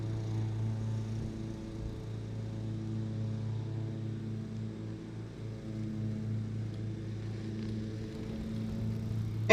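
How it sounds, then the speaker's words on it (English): A lawn mower runs steadily a few houses away, a faint, distant engine drone holding a constant pitch throughout with no speech over it. "The lawnmower 3 houses down is way louder than this bike."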